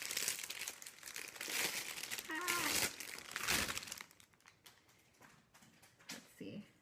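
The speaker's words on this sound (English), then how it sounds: "There's going to be some crinkling, so turn down your volume or whatever." Plastic packaging of a mini skein yarn kit crinkles loudly and close for about four seconds. Quieter handling noises follow, and a voice briefly speaks.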